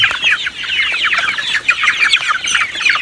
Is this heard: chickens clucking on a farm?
yes